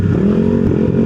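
A Kawasaki Z1000 big bike engine revs loud and close, holding a steady, throaty roar through the whole second with no voices.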